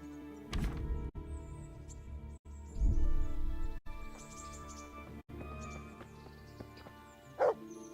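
In the medieval video game Kingdom Come: Deliverance, a dog lets out a few sharp barks over quiet ambient background sound, with short gaps between them.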